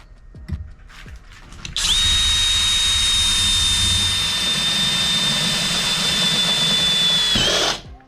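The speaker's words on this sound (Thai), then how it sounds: "ผมจะทดลองกับเหล็กกล่องขนาด ความหนาอยู่ 2 มิลให้ดูนะครับ" A PUMA PM-245BL 20 V cordless drill bores through 2 mm thick steel box tube, giving a loud, close, steady high whine for about six seconds. The whine starts abruptly and cuts off sharply at the end.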